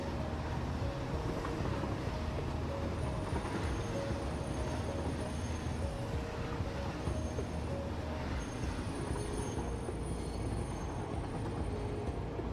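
Train rolling along rails in the Satisfactory VR video game, a steady dense rumble with faint high squeal tones, continuous and fairly close throughout with no talking.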